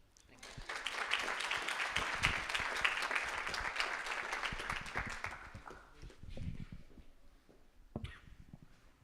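Audience applause at a graduation ceremony, a steady crowd clapping that swells, holds for several seconds and then thins out into scattered claps, heard faintly at a distance.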